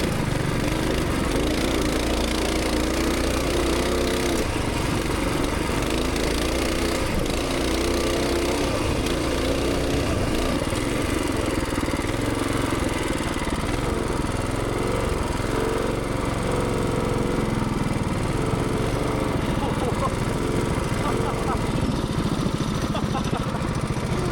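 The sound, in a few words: engine revving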